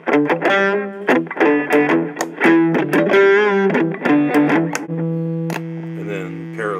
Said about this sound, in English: let's hear a little distortion